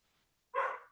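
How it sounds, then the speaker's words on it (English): A single loud dog bark bursts out after a near-silent stretch, close by and sharp. "Can you hear her barking now?"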